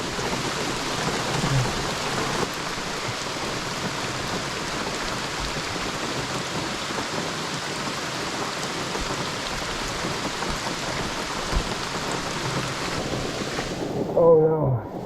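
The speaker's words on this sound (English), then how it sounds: "Raindrops keep falling on my head." Steady rain patters down at a backcountry campsite in Algonquin in autumn, a constant even hiss throughout, fading out abruptly near the end.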